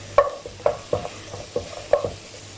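Several quick spoon strokes stir mutton kabsa masala with dry coriander powder in a pan, each a short scraping knock in an uneven rhythm, close and moderately loud over a soft sizzle.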